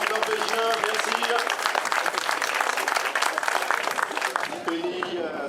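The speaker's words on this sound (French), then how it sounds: "Vous pouvez l'applaudir s'il vous plaît," A crowd applauds a Norwegian cyclist at the podium after stage 3 of the 2013 Kreiz Breizh Elites road race: dense, sustained clapping throughout, with voices audible underneath.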